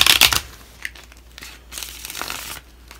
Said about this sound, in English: Last shuffle there, guys.